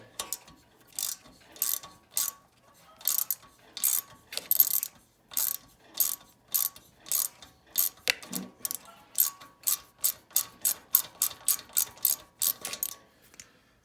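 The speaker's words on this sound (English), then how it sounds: "Let me take these bolts off" A hand ratchet works bolts loose from the magneto coil of a Kohler KS540 engine, its pawl clicking in fast, even bursts of short strokes that repeat steadily and close, with brief pauses between.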